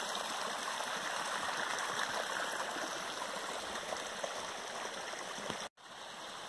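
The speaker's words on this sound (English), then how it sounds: "water's coming out of the spring over there" Water flows steadily out of a spring beside a snowy trail at Whitts Lake, a soft, continuous trickling rush with no talk, cutting off briefly near the end.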